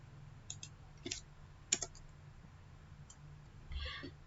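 Soft, quick mouse clicks, a few scattered taps with one sharper click near the middle, as the connect button is pressed in VirtualBox router lab software. The clicks are faint and close, against low hum.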